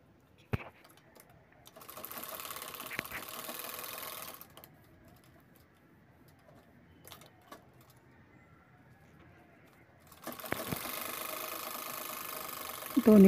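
A sewing machine stitches along both sides of a small hand purse or pouch in two bursts of steady, close, whirring stitching, each a couple of seconds or more long, separated by a quieter pause with faint handling clicks.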